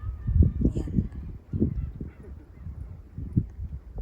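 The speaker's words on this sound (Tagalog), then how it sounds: "Dami pang ibon." Birds call near a seaside fishing spot where boats are moored, with a series of short, honking, goose-like calls coming in irregular bursts at a moderate distance.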